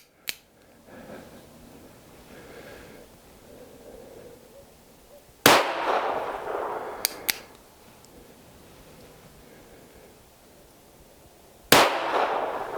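An NAA .22LR mini revolver fires about five sharp, cracking shots at uneven intervals, two of them close together. Each report is loud and snappy, with a short decay over faint background noise.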